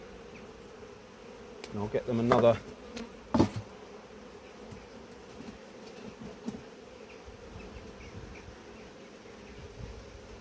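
A wasp buzzes at an apiary hive during an inspection, a faint steady drone under outdoor ambience, with a couple of louder brief knocks and bursts early on and a voice speaking briefly.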